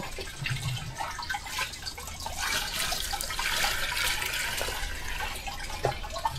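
Water is poured onto a tree while it is being watered outdoors, a continuous near splashing and trickling that swells slightly in the middle and carries on alone without talk.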